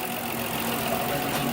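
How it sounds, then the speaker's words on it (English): A 2001 Dodge Grand Caravan minivan engine idles with a steady, even rumble, close by and uninterrupted. "as you can hear, the engine is running"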